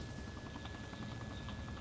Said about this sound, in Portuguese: vou pousar o helicóptero rapidinho